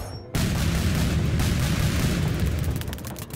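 Tanks firing in the strategy video game Reverse Collapse: Code Name Bakery, heard as a sudden heavy boom that settles into a dense, continuous low rumble of cannon fire and explosions, loud and close with no voices.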